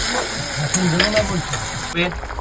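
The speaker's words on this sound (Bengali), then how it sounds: "এবার এটাকে কষাতে হবে, ভালো করে কষিয়ে নিতে হবে।" Spice masala sautéing in oil for a village-style rohu fish head curry, a close, continuous sizzle and stirring sound that runs beneath a person talking.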